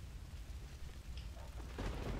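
The Freezing Rain spell in Battle for Middle Earth brings a low, faint rumble of thunder beneath steady rain hiss, swelling slightly louder toward the end, with no voices.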